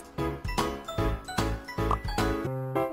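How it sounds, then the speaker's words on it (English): A bright, tinkling electronic jingle plays in quick chiming bursts, several short sparkly notes repeating like bonus coins being collected in the children's game Princess Horse Club 3. "Collect your bonus coins."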